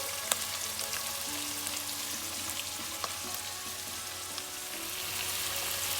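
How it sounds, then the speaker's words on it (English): Fresh coconut and onion sizzle and crackle steadily in a hot pan, a continuous frying hiss with occasional pops, no voices. "So we are frying the coconut, fresh coconut and onion until the rawness goes away."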